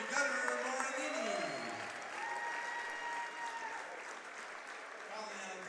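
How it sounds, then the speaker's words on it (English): Applause from a crowd at a high school men's basketball game rises to honor a player who has just fouled out, sustained clapping filling the gym for several seconds under faint background noise. "Let's give a nice round of applause for number 3, Gunnar Morinini."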